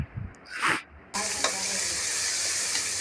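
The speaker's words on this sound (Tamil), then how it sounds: "மூணு தக்காளி எடுக்கணும் எடுத்து அதில் போட்டுக்கணும் போட்டு அதையும் நல்லா கிண்டணும் அதுவும் நல்லா வதங்கணும்" Tomatoes being stirred and sautéed in a pan for a Sunday biryani: a brief clatter and rustle at first, then a steady, close sizzle with occasional scraping strokes of the spoon.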